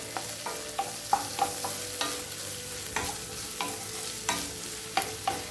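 Vegetables (onion, carrot, beans and capsicum) sauté in oil over a high flame for chicken fried rice, with a steady sizzle broken by repeated sharp scraping strokes and clanks of a spatula stirring the pan.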